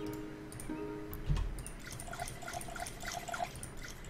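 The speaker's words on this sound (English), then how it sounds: "let's fill up on our water here" Water fills a container in Neo Scavenger, a video game, as a short burst of running liquid followed by a string of light drips and trickles, close and fairly faint.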